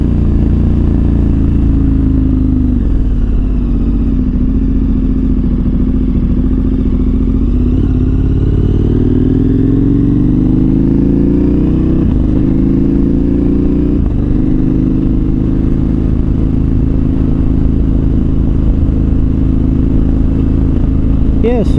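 A KTM 1290 Super Adventure R motorcycle engine drones steadily while riding, low and loud throughout, with rising and falling pitch as the throttle shifts, under faint rider talk.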